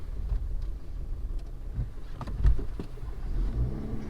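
A car maneuvering into a parking spot: a low, close engine rumble with scattered soft knocks and bumps as it moves, rising briefly in the middle before settling, with no voices.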